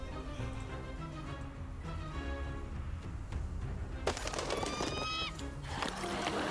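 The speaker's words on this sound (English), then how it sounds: "Why does marksman sound like a seagull?" A marksman unit's seagull-like bird cries in the HOMM Olden Era video game, shrill squawks standing out over a busy battle soundscape of music and effects near the end.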